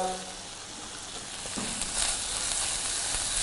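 Onions frying in a pan, a steady broadband sizzle with faint stirring, growing slightly louder partway through and continuing without pause, no voices.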